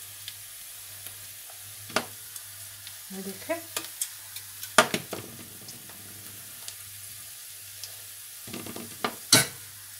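Hot tempering poured over chicken pulao crackles in short sizzling bursts, louder spits near the middle and end over a low kitchen hum, with a brief spoken word.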